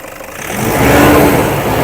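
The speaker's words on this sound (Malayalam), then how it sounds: "ഇത് പയ്യെ റേസ് ചെയ്യാവോ" A Toyota Innova V variant with an intercooler diesel engine revs up from idle, the engine note swelling and holding steady at a raised pitch, loud and close, with no talking.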